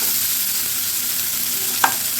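Onion, garlic and tomato paste frying in a pan for an egg kosha dish: a loud, steady sizzle throughout, broken by one brief clink of a utensil near the end.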